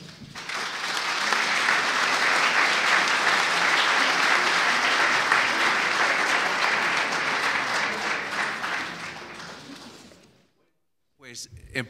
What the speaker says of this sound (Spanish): Por favor, brindemos un aplauso.